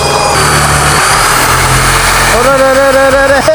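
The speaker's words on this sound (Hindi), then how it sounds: "मैं सिंपली अपने लकड़ी के टुकड़े को रख सकता हूँ और इसको प्रेस कर सकता हूँ इसमें होल करने के लिए।" An electric drill in a makeshift jugaad tool rig boring a hole through a piece of wood, a loud, continuous motor whine whose pitch shifts and rises near the end.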